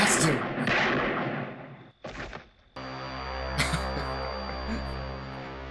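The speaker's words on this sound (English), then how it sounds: "the doctor put like 6 shots into him" Gunshots from the 1978 horror film Halloween ring out as loud, harsh blasts. They sit among film soundtrack noise and a steady electrical hum, with voices speaking.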